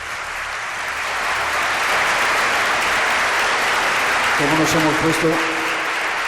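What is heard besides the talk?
audience applause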